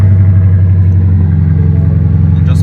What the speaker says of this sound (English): now all we need to do is start the engine up. This is the push to start, so we just push the button.